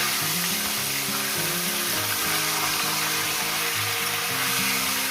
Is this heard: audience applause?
no